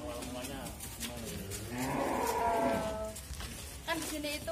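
Cattle at a calf-rearing farm lowing, a sustained nearby moo swelling in the middle and a shorter call at the end, with background voices and farm noise.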